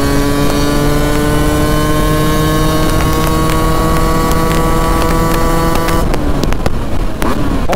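A Beta RR 125 two-stroke supermoto rides steadily with a loud, close engine whine holding a constant pitch, then the tone breaks up and changes near the end, with wind buffeting throughout.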